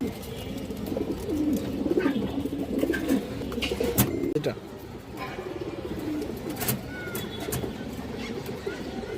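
A female Giribaz gendha pigeon coos in soft, low, repeated phrases close by, amid background murmur and a few sharp knocks.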